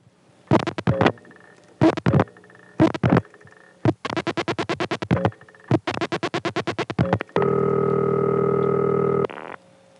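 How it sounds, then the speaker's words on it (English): Step-by-step telephone exchange switching at the Ole office in Birdsboro, Pennsylvania, 1976: bursts of rapid mechanical clicking and stepping in several trains, then a loud steady buzzing tone near the end. "you would hear step cut-in sounds after the next 3 digits"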